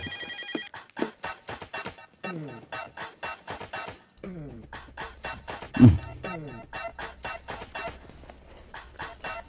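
A phone ringtone plays in quick, chirpy repeating pulses, fairly quiet, with a short thump partway through.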